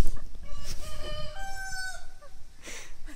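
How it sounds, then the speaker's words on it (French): A rooster crows behind a house, a long drawn-out cock-a-doodle-doo rising and holding at moderate distance, followed by a couple of short clucks, with no talk over it. "J'espère qu'il va pas recocoriquer."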